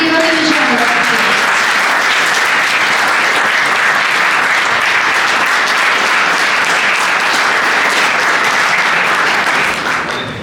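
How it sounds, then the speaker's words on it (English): A loud, dense round of applause from an audience at a felicitation event for a mental wellbeing session, sustained at full strength for about ten seconds and easing off only at the very end. "Please give us a huge round of applause."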